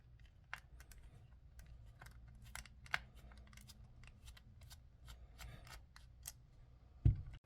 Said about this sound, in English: for anyone who likes that sound of taking out a screw, I got something special here coming up for you